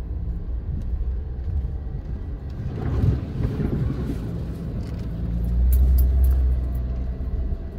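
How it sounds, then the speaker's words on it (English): A Can-Am Maverick side-by-side pushes through mud and ruts, its engine a loud, continuous low rumble held in lower gears, swelling and easing over uneven ground with thumps from the terrain. "So here we go, going through mud and ruts."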